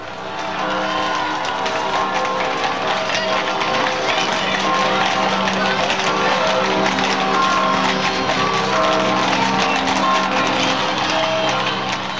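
Crowd cheering in the rain as a royal bridal couple leave the Westerkerk in Amsterdam in 1966, a steady loud wash of voices and noise with no pauses.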